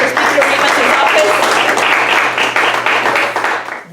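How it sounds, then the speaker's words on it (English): Audience applause fills a banquet hall at a scholarship award dinner, steady and dense for several seconds before tapering off near the end. "A big round of applause for Speaker Rivas' office."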